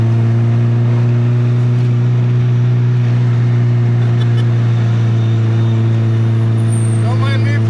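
Mazda Miata fitted with a 1UZ V8 engine climbing a steep hill, a loud continuous low drone and engine roar filling the whole stretch with no break.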